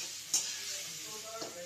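Silkworm pupae fry in a pan with a steady, close sizzle and hiss, broken by a couple of brief stirring clinks.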